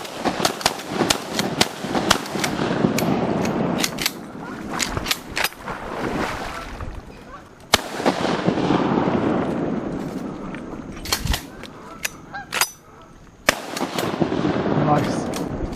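Shotgun blasts ring out during a goose hunt, several loud, sharp shots in a quick volley and a few more after, near and outdoors, with people talking and calling between shots.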